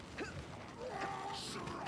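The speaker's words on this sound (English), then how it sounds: "That's a Kazaki door" A heavy Kazaki door in Vermintide II creaks open with grinding, drawn-out mechanical groans and a ratcheting edge, fairly quiet and with no talk.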